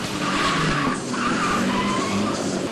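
Car tires skid and squeal loudly during an illegal street race, a sustained screech with a short dip midway, heard alone with no talking.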